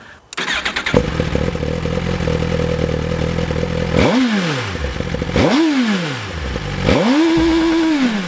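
A 2017 Suzuki GSX-R1000 inline-four sport bike idles loudly close by, then revs hard in three rising and falling bursts, the last held high at a steady whine.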